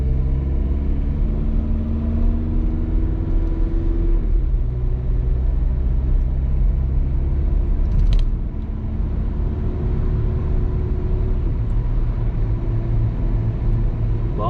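A car driving along a countryside road in Switzerland past wheat fields gives a steady, continuous low engine and tyre rumble throughout, close and fairly loud, with no voices.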